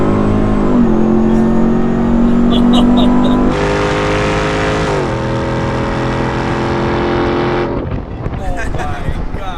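A 1000-horsepower Hennessey Mammoth 1000 TRX truck launches hard, its loud supercharged engine roaring and climbing through rising gear pulls with a shift partway, heard from inside the cab.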